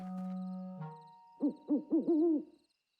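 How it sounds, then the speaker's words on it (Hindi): A cartoon owl hoots four times in a quick rising-falling series, clear and close, following a sustained low tone and no talk. "तो देखा बच्चों, ये तो एक उल्लू है।"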